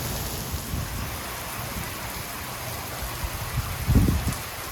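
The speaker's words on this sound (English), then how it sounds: "it's really coming down hard. No thunder, but just rain." Heavy rain pouring down during a rainstorm beside a New Jersey railway line, a dense, steady hiss of rainfall with no thunder and a brief louder low rumble near the end.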